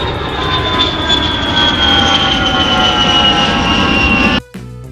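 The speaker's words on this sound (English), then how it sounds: "Airplane." Fixed-wing airplane flying past with a steady, loud engine drone and high whine that holds for about four seconds, then cuts off abruptly near the end; no voices.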